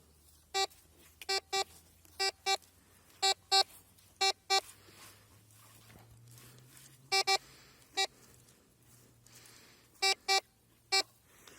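A metal detector sweeps over a find, sounding sharp, clear electronic beeps in pairs and singles at irregular intervals over a quiet low hum outdoors.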